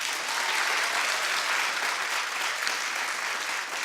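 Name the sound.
audience clapping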